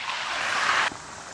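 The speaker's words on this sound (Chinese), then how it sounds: "油温6成热，下入土豆给它炸一下。" Potato pieces deep-fry in hot rapeseed oil in a wok, a loud, close, steady bubbling hiss that swells and then drops off sharply near the end.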